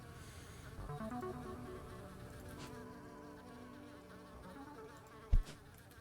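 Bees buzzing in the video game Starground, a steady insect drone that holds for about six seconds alongside a tonal game backdrop, with a brief loud thump near the end.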